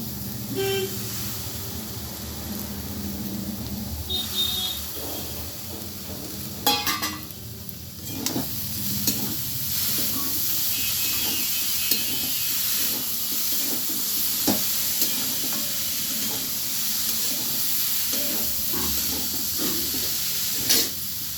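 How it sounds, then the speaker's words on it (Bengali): Banana stem pieces stir-fried in a pan for a vegetarian dish, giving a steady close sizzle and hiss with repeated scraping stirs and occasional clacks of a utensil throughout. "আমি দিয়ে দিচ্ছি এবার থোড়টা।"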